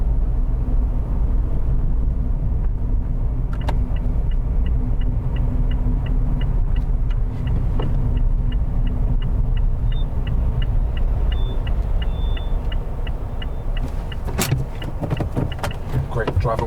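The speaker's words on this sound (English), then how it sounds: "pull up on the left in a safe place" A car slows and pulls up at the left side of the road during a driving lesson, its engine rumbling steadily inside the cabin while the indicator ticks rhythmically.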